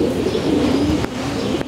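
Pigeons cooing outdoors in light rain, a close, continuous low throaty coo rolling on for the whole moment, with a faint soft patter behind it.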